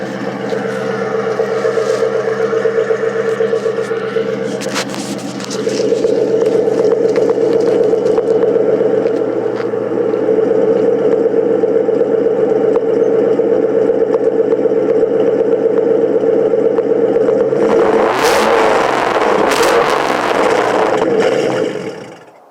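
A 2001 Ford Mustang GT, stock apart from its exhaust, cold-starts and idles with a loud, steady rumble that steps up after a few seconds and swells in a brief rev near the end before cutting off.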